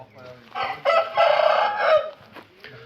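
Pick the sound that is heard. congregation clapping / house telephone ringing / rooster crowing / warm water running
rooster crowing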